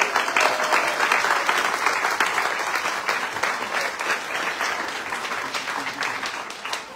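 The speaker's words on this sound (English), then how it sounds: "let's give a big round of applause for Louise and Wallace." Sustained applause from an audience at a conversation event in a barn venue, a full, even wash of many hands clapping that stays strong and fades slightly toward the end.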